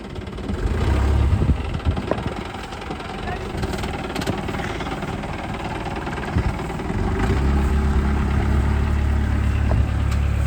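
A 1983 Mahindra jeep engine running steadily at a low, rough idle, close and loud throughout, with a heavier rumble near the end.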